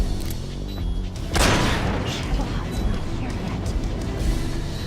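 C3 explosive charges go off in Metal Gear Solid 3, a single heavy boom bursting in partway through and settling into a rumbling roar over a steady background of game noise.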